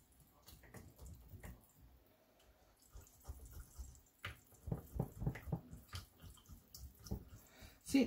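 Liquid is poured into jars of minced beef being prepared for pressure canning, a close series of gurgling, splashing pours that grows louder and more rhythmic toward the end.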